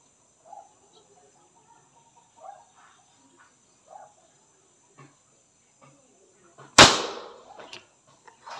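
A hammer-type tactical PCP airgun fires one sharp, loud shot near the end during a grouping test, preceded by several faint clicks and soft murmuring speech.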